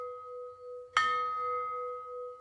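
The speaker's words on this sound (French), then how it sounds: "à travers le son de Mani, la cloche, qui invoque le son Om" A ritual hand bell (mani) rung during a Hindu puja to Vishnu and Mahalakshmi: one bright strike about a second in, ringing out and slowly fading over a steady sustained tone, with no talking.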